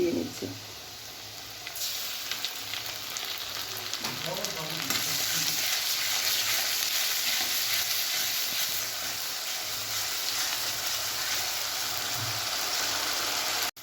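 Onions and ginger-garlic paste sizzling in a pan while cooking a bhetki fish recipe, a steady broadband fry hiss that swells after a few seconds and runs continuously, fairly close, with faint stirring scrapes.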